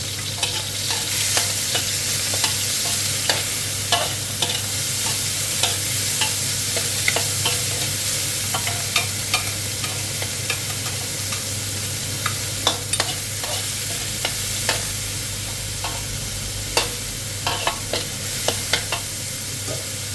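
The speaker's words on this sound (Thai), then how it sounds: "แล้วก็ผัดหมูให้สุกๆก่อนนะคะ" Pork stir-fried in a pan until cooked, a steady sizzle with frequent scraping and clinking of a spatula against the pan, close and continuous with no talking.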